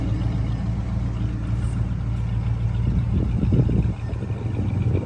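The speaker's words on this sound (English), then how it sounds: "Sweet sounding original dual exhaust." A 1981 Chevrolet Camaro Z28 with a 5.7 V8 and its original dual exhaust idles nearby, a steady low rumble with slight unevenness and a brief swell of revs, with no voices.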